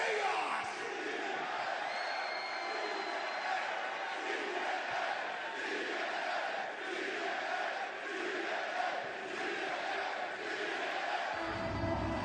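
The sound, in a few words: wrestling crowd hyped up, cheering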